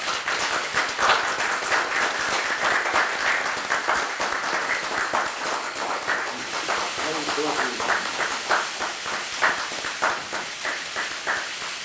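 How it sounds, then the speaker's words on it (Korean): Audience applause welcoming a former prosecutor introduced as the Democratic Party's fourth recruit, a steady wash of clapping lasting the whole stretch with crowd murmur and speech mixed underneath. "박수로 맞아주시기 바랍니다"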